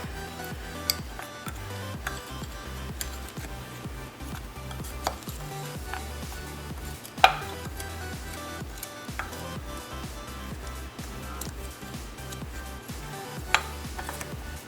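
A teaspoon stirs flour through blueberries in a bowl for whole wheat muffins. Quiet, scattered clinks and scrapes sound up close, with a few sharper taps along the way.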